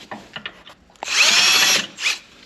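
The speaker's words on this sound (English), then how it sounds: "you're just gonna drill out this hole here to get the bigger bolts" A power drill enlarging a bolt hole for a bumper install on a 2021 Ram TRX: a few short clicks and bursts, then one loud high-pitched whining run of about a second, stopping, and a brief final burst.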